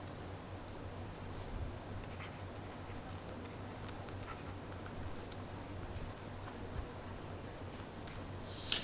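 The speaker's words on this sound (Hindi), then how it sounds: "चलिए अलग से लिखता हूँ।" Marker pen scratching and tapping on a board in a company law lecture, with short strokes in steady, fairly faint bursts against a low background hum and no talking.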